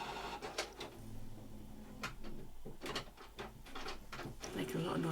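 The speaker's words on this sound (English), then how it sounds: "The printer is now on top of the Calyx unit up there, which is why my entire table is now shaking." A printer sits atop a Calyx unit and runs with a mechanical whir and repeated clunks and clicks that rattle the table beneath it, heard close amid a person talking.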